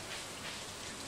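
Steady rain falls in the video game Stardew Valley, a soft continuous hiss with no thunder or voices, even and unbroken through the short stretch.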